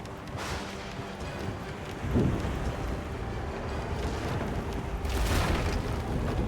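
Heavy rain in Divinity: Original Sin II pours in a steady, dense roar, with low rumbling swells rising and falling beneath it and no voices.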